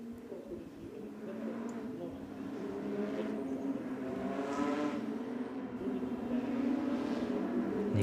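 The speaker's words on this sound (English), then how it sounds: "you see the mini pace car, which makes its way around the circuit" A Mini pace car circling Circuit Zolder during a Porsche Carrera Cup Benelux race gives a steady engine drone that swells gradually, heard at a distance beneath continuous commentary.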